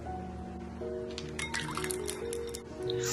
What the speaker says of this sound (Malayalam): ഇനി ഒരു ബൗളിൽ വെള്ളം എടുത്തിട്ടുണ്ട്. അതിലേക്ക് കുറച്ച് ഐസ് ക്യൂബ് ഇട്ട് കൊടുക്കാം.